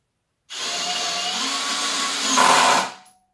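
A power drill bores into a fence post while U-rails for a Fiberdeck Pacific fence panel are being fitted, a short steady whir of about two and a half seconds that rises in pitch and force near the end before cutting off.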